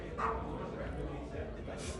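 Small puppy giving short yips and whimpers in a room, brief and fairly close, mixed with background chatter.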